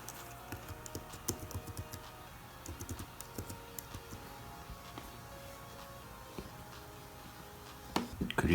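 Keys click on a MacBook keyboard as a new password is typed, a quiet, close run of irregular taps with brief pauses and a louder clatter near the end.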